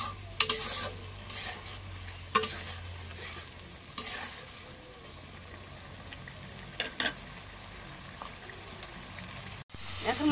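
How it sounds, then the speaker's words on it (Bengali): Spices sautéing in a pan for a bottle gourd curry with green chillies, a low continuous sizzle broken by several sharp scrapes of stirring, close by. "এখন মশলা কষানো হয়ে গেছে"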